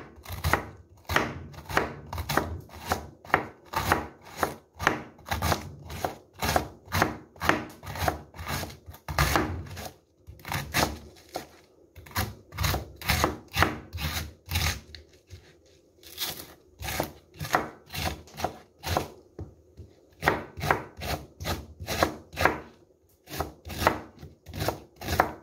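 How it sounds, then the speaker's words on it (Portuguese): A knife chops cabbage on a cutting board for a vegetable pie, a long run of quick, rhythmic crisp thuds with a few short pauses, close and clear. "Vai cortar o repolho assim"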